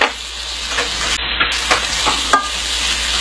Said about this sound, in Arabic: بحرك هاي الأشياء مع بعض